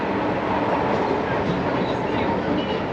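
A cable car running in a sunny, chilly Turkish setting, heard as a steady, loud mechanical rumble and rolling clatter that holds constant throughout, with no talk over it.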